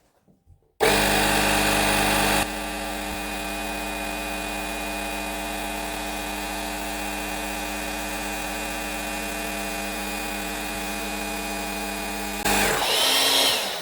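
A Parkside 20V cordless PKA 20-Li compressor runs steadily for about twelve seconds, a loud continuous motor drone with a whining pitch, inflating a beach ball through a high-pressure hose and adapter, then stops abruptly with a brief hiss.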